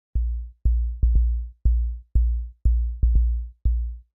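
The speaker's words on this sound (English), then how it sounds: "our basic kick sounds like this" A basic sine-wave kick drum synthesized in Logic Pro thumps nine times in a loose rhythm, each hit a deep, boomy low tone with little attack that decays quickly.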